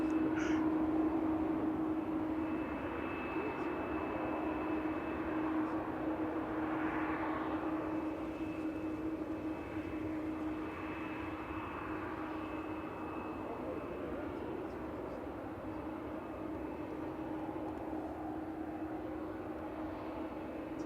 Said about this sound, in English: Lima Kilo is following the Ryanair down to the runway for departure.